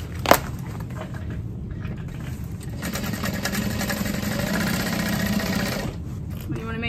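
A sewing machine stitches a messenger bag, its motor humming in a steady mid-pitched whir for several seconds after a sharp click, with faint background sound and no voice.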